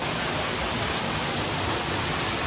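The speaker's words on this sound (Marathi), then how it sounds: "आणि धबधब्याचा आवाज येतो इथूनच बघा." A waterfall in a rainforest wildlife park gives a steady, dense roar of rushing water, close and unbroken from start to end, with no voices over it.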